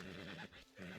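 A horse in Red Dead Redemption 2 gives a short, quiet whinny with a trembling, wavering pitch that fades off within about a second.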